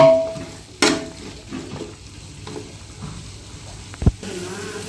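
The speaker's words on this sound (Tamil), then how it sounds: "நல்லா மிக்ஸ் பண்ணிக்கோங்க." Masala with two spoons of chilli powder is stirred through vegetable biryani in a pan: a soft, quiet scraping with a couple of sharp clinks of the spoon against the metal, and no talk.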